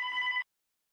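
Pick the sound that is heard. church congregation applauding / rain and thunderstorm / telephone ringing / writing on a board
telephone ringing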